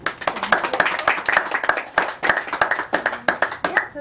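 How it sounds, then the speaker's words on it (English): A small audience at a book talk on independent film claps in sharp, separate bursts, each hand clap distinct and fairly close, in an uneven rhythm with no voices on top. "Well, let's give him a round of applause."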